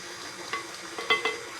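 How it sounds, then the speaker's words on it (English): Flour is stirred into egg yolks, butter and sugar with soft, faint scraping and a few light clinks over a short moment. "It'll take a little mixing to get all of this flour into the egg yolks and butter and sugar"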